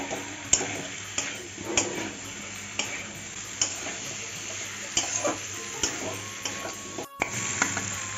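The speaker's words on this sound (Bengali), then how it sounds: "আলুটাও দিয়ে দিচ্ছি কষিয়ে নেব" Potatoes are sautéed in a pan for a vegetarian jackfruit curry, with steady soft sizzling and regular ticking scrapes of a spatula, close and moderately quiet, with no talk.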